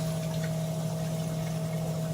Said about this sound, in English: as it pulls the water from the outside and slowly fills it back up to our mark.